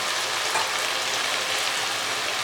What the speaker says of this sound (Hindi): चिकन को मज़ीद भूनते हुए हमें तकरीबन 5 से 7 मिनट लगने हैं।